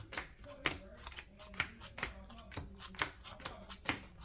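Trading cards from a Tearlaments deck being riffled and shuffled by hand, a quick run of crisp snapping bursts repeating roughly twice a second, close and fairly quiet.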